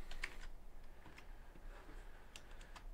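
Soft keyboard typing sound effects from a Blender 3.0 geometry-nodes animation: sparse, faint key clicks in irregular bursts over a low background hum, with no speech.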